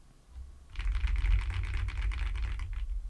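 Rapid clicking keystrokes on an affordable mechanical keyboard, a steady flurry of close, crisp key presses that starts after a brief quiet moment and continues without pause.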